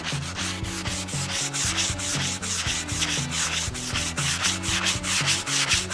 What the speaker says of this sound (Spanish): Voy a utilizar, como veis, una lija de grano gordo.